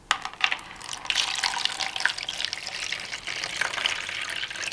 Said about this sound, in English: we're just going to add a whole bunch of water.